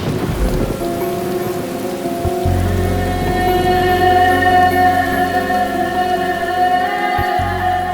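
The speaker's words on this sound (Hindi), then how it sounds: "एक तो बारिश भी बहुत ज्यादा है" Heavy rain pours down steadily in a forest, loud and close, with a deep rumbling low layer beneath the downpour and a sustained tonal hum of music running over it.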